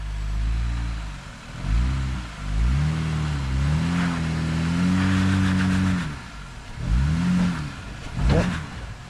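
A Jeep Gladiator without lockers revs hard while it climbs a Metal Masher off-road obstacle. The engine note rises and falls in several sustained surges, up close and alone.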